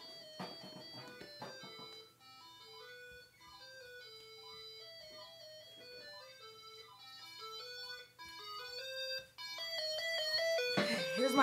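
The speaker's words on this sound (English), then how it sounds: "here's my house phone ringing" A house phone rings through an iPod Touch calling app, playing an electronic melodic ringtone as a bright run of tonal notes that repeats steadily with brief gaps, then swells louder and busier in the final second.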